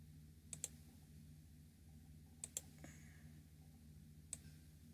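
Mouse clicks at a computer during Photoshop photo retouching, faint close double clicks repeated a few times with quiet gaps.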